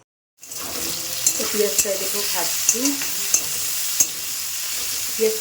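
Food fries with a steady sizzle in a pan while a spatula stirs and scrapes, giving several sharp knocks and brief tonal squeaks over the hiss, and no one speaks.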